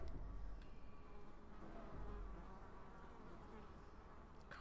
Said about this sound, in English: Just the mosquitoes.